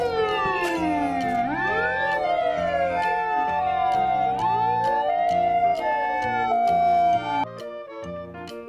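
A toy ambulance plays its electronic siren, a loud close wailing tone that sweeps up and down with warbling patterns and overlaid beeping melody, then abruptly shifts near the end.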